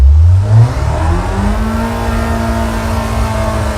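A loud race car engine revs hard on track in fourth gear, then its pitch climbs steadily as the car accelerates, close and continuous.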